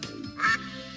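A single short duck quack sounds in a children's alphabet lesson, one bright nasal burst standing alone at moderate volume.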